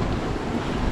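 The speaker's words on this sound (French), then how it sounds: "le vent d'est qui nous fait suer depuis qu'on a quitté Rimouski, ben, aujourd'hui, on l'utilise à bon escient" East wind buffeting a sailboat on the St. Lawrence River, a steady broadband roar of wind across the microphone with water rushing beneath, loud and continuous, with no voices.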